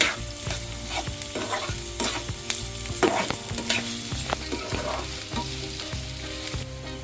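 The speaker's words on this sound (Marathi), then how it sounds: "साधारण कांद्याचा कलर बदलेपर्यंत आपण कांदा परतून घ्यायचा" Onion sautéing in a pan for a sweet-and-sour green chili dish, a continuous close sizzle with repeated scraping and tapping strokes of a spoon against the pan, and no voices.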